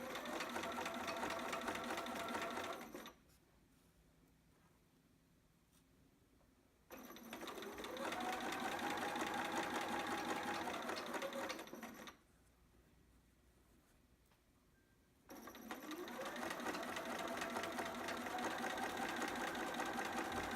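A sewing machine stitches a pattern piece in three long, steady whirring runs separated by quiet pauses, the motor close and even throughout.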